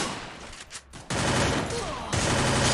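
Evo gun bursts in the Free Fire video game fire as rapid automatic volleys, loud and dense, with a brief pause before the firing resumes.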